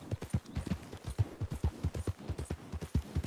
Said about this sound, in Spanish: Su caballo es más veloz que el nuestro.